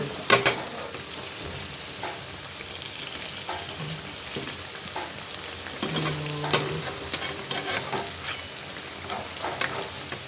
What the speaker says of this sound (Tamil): அதே எண்ணெய் மேலே ஊற்றி விட்டா வேக போகுது